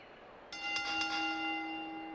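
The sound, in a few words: wrestling ring bell being rung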